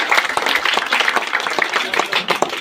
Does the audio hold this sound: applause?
yes